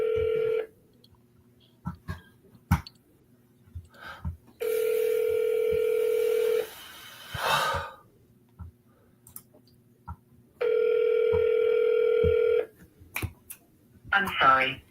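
Telephone call through a speakerphone: a ringback tone pulses in long steady bursts with silent gaps, a short squeal of tones between them, and clicks and brief voices around them.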